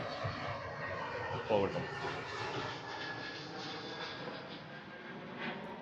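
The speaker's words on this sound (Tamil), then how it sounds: "பின்னாடி அப்படியே ஒரு ஃப்ளைட் வந்து போயிட்டுருக்கு." An airplane passes overhead outdoors as a distant, low, drawn-out rumble heard under someone speaking.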